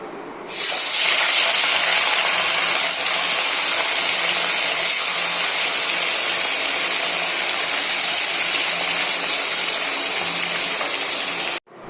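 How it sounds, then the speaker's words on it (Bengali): Katla fish pieces rubbed with salt and turmeric frying in hot oil give a loud, steady, close sizzling hiss that carries unbroken for about eleven seconds before stopping abruptly, with no talking. "মাছে নুন হলুদ মাখানো হয়ে গেছে, এবার ভেজে নেব"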